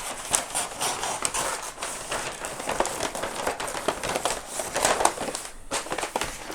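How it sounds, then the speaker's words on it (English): Rolled craft paper is handled and pressed flat for a Halloween jack-o-lantern mirror decoration, giving repeated close crinkling, rustling and tapping sounds throughout with no talking. "Paper wants to roll up on itself. So just sort of flatten it out here."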